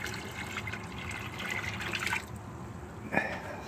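Water pours and trickles into a nutrient solution for a hydroponic setup, a faint continuous liquid splash with one brief louder plop near the end, fairly quiet and close.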